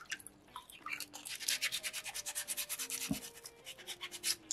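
Soapstone fish carving rubbed by hand with sandpaper, giving a steady run of rapid scratchy back-and-forth strokes, close and fairly loud, with no voices.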